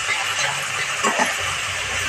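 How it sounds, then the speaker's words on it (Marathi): Chopped tomato hits onions frying in oil for dal khichdi and gives a loud, continuous hissing sizzle that holds steady for a couple of seconds. "कांदा बऱ्यापैकी बावत आला आहे, त्याच्यावर मी टोमॅटो टाकणार आहे"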